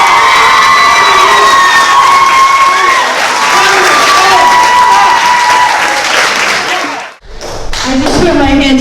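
Audience at a youth talent show applauding with loud cheers, whoops and high shouts from young voices, a dense close roar that drops suddenly to near silence before voices and clapping pick up again.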